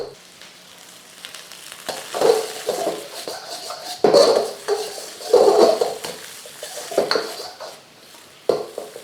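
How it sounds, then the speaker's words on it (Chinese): Egg fried rice stir-fried in a wok over high heat: steady sizzling with repeated metal clanks and scrapes of the spatula against the pan, loud and close, in uneven bursts with no talking. "最后就是一路大火炒罢了啦"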